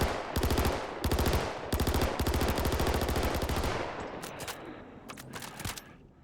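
Klaus and Werner Lumin V submachine gun in Star Citizen fires rapid three-round bursts in close, loud repeated groups for about four seconds, then a few sparse single shots and clatter follow.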